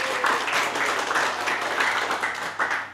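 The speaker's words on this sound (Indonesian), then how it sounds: "tepuk tangan dong untuk Akbar" A small lecture audience claps briefly, a short burst of loose, uneven applause lasting a few seconds.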